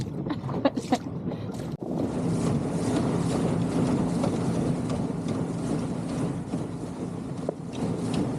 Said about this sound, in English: Long dinghy ride today.